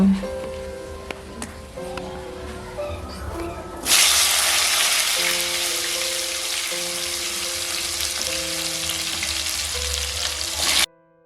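Mango pieces for a homemade pickle hit hot oil with a loud, steady sizzle that jumps up suddenly after a quieter stretch. The frying then holds close and strong until it cuts off near the end.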